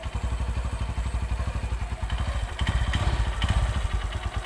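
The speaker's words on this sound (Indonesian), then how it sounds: "Sekarang posisi gigi satu, kita gas pelan-pelan. Ambil gas, kita lepas koplingnya pelan-pelan." A manual-clutch motorcycle in first gear pulls away slowly, its engine thumping in a steady rapid beat that rises slightly as the throttle opens, with some clatter, heard close by.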